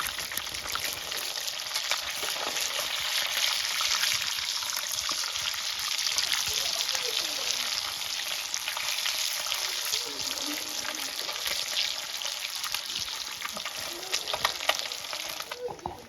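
Pieces of Kashmiri-style fish sizzle steadily in a frying pan, a dense continuous hiss with faint scraping, close and alone without talk.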